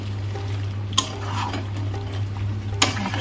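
A curry is stirred as it fries in a pot, giving a soft sizzle with occasional scraping strokes and two sharp clinks of a utensil against metal over a steady low hum.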